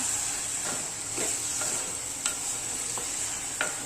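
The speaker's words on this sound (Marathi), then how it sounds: "हे तांदूळ थोडेसे चांगले फ्राय होऊन द्यायचे" Rice frying in a pan with vegetables, a continuous hissing sizzle with a few soft spoon stirs and taps, close and steady, no voices.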